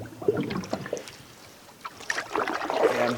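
A canoe paddled on the Yukon River, with soft paddle strokes and water swishes and trickles, close to the microphone, plus a light rush of wind and no talking.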